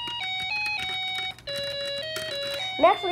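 A Snap Circuits SC-750 kit plays an electronic birthday song melody, thin beeping tones stepping through the tune with a slight wavering, steady and close, ending in a brief warbling sweep.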